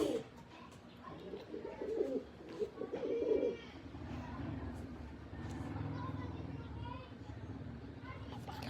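A brown pigeon coos in low, soft repeated phrases close by, blending with background chatter and a steady low hum of traffic or an engine.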